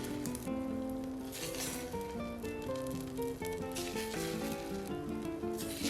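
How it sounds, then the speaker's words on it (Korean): Zucchini and eggplant, dusted with frying mix and dipped in egg wash, pan-fry gently over low heat for holiday jeon, a soft continuous sizzle under tonal background sound, close and steady throughout. "부침가루 뿌린 애호박과 가지를 계란물 입히고 약한 불에서 은근히 부쳐줍니다."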